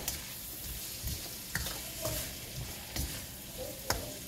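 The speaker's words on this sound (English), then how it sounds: "So we're going to stir that up really good." Creole sausage and okra with onions and green onions sizzle in a pan while being stirred, a soft steady hiss broken by several distinct spatula scrapes and knocks.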